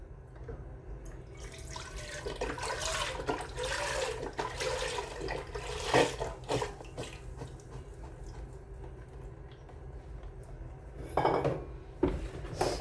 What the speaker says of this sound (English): We'll pour in the chicken stock.